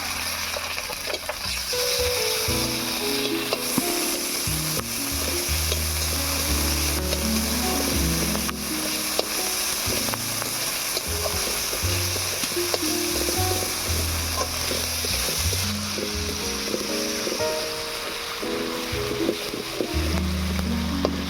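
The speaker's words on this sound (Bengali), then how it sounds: "আদা রসুনটা ভাজা হয়ে গিয়েছে" Ginger and garlic paste sizzles steadily in a hot pan with chopped onion, a continuous close frying hiss with faint stirring.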